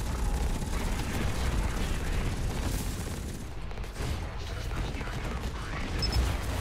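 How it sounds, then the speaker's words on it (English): Turret gunfire in the video game Hawken, with dense rapid shots and mechanical clatter forming a continuous, fairly loud barrage throughout, with no clear speech on top. "There's a turret shooting somebody."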